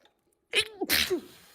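A single close sneeze with a sharp intake and a forceful burst, followed by a short voiced trailing sound.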